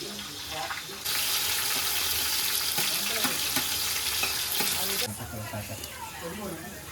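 Onion hits hot oil in a pan on a low gas flame while paneer dum biryani is being cooked at home. A loud, dense sizzle bursts in suddenly, holds steady for about four seconds and then drops away, with people talking throughout.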